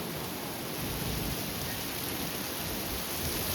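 Strong thunderstorm line sweeping through Stow, Ohio, a loud continuous roar of wind-driven rain and gusts, dense and unbroken, with no voices.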